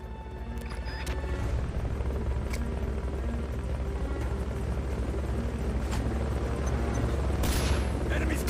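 Helicopter in the game Metal Gear Solid: Peace Walker, a loud steady rotor drone that runs throughout with low rumble and occasional sharp bursts of game sounds layered on top.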